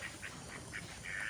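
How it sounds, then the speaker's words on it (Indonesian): Ducks kept at a retiree's rural home quack in short, faint repeated calls at a distance, with a longer nasal call at the end over soft outdoor background noise. "Oh ya, saya juga memiliki bebek di sini."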